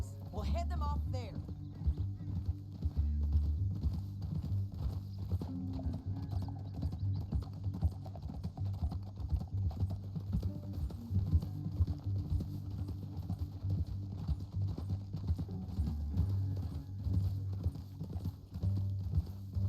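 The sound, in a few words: horses galloping in Red Dead Redemption 2 video game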